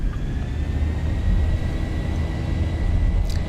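Airliner engines in the X-Plane 11 flight simulator spooling up to takeoff power on a Delta departure, a steady, even low rumble with a faint whine above it, constant and unbroken.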